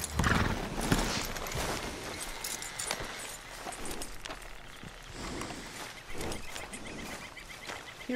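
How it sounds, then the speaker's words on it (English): A horse in Red Dead Redemption 2 is hitched up, with clopping hooves, snorts and a whinny mixed with rustling tack in a string of uneven, close bursts. "Okay, I'm hitching the horse."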